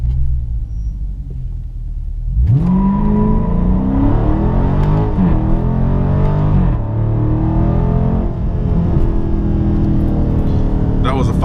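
A car with larger tires launches hard in sport mode with manual shifting, tires spinning; after a rumbling idle, the engine roars up loudly and stays strong and close through the rest of the run.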